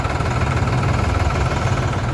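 A 2017 Mahindra Shaktiman 35 tractor with a 39 HP engine idles close by in a steady, low, rumbling throb with a faint knocking pulse, and no voices over it.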